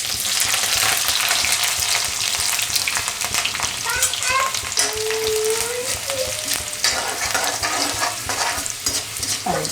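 Garlic, cumin seeds and green chillies sizzle in hot oil in a pan for a Gujarati gunda gravy curry, a close, steady fizzing crackle with soft stirring scrapes throughout.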